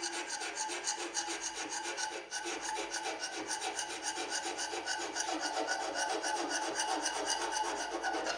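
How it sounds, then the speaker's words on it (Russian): A homemade hand scraper made from a steering tie rod scrapes a lathe bed with close, rhythmic, rasping strokes, repeated in quick succession throughout, and no speech. "Ну и при помощи данного шабера я планирую подшабрить станину"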